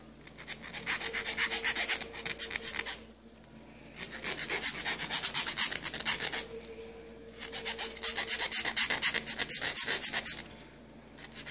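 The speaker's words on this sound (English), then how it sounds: "I'm just going to file down the inside, file it out, make it a little bit wider." A hand file rasps out the inside of a plastic gas stove knob for an LG range in three long bursts of rapid back-and-forth strokes, close and fairly loud, with short pauses between.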